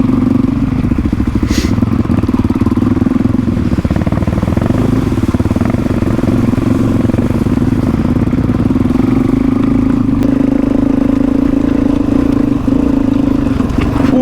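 A Suzuki DRZ400E dual sport motorcycle rides steadily, its engine a loud, constant close drone with slight bumps and rattles, no talk over it.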